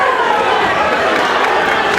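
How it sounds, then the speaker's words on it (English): A boxing crowd roars and cheers during a fight round. The dense, loud crowd noise runs without a break, with talk over it. "And the crowd very much into it."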